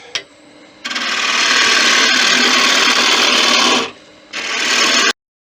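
A wood lathe cuts a resin Christmas angel with a gouge, giving a loud, harsh, continuous grinding rasp that runs for about three seconds, breaks off, then resumes briefly before stopping abruptly.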